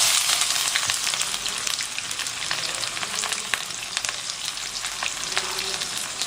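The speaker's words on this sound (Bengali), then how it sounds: "এবার আমি দিয়ে দেবো পেঁয়াজ কুচি" Two medium chopped onions fry in hot oil for doi chicken, giving a steady, dense sizzle with crackling pops throughout and no talking.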